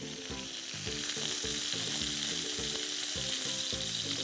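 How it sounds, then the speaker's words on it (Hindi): Chicken shashlik fries in a little oil, a constant bright sizzle layered with a faint tonal hum that pulses rhythmically underneath, with no one speaking. "हम लोग ऑब्वियसली इसको थोड़े से ऑयल में कुक कर रहे हैं"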